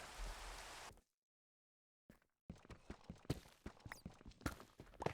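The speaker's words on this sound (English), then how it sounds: "I apologize for the sound of the rain. That is loud." Video game rain: steady hiss, then abrupt silence, followed by a patter of drops and taps in an irregular rhythm, fairly close.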